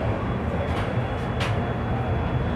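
The Mysuru Shatabdi Express pulls out of Katpadi Junction station with a loud, steady rail rumble and low clatter throughout, plus a couple of faint brief hissing bursts, with no talking.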